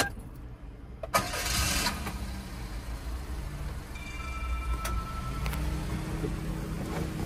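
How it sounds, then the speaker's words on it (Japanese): A Subaru Sambar kei truck engine cranks after a short quiet moment, catches, and settles into a steady, moderately loud idle. "ちょっとエンジンかけてみましょうか。"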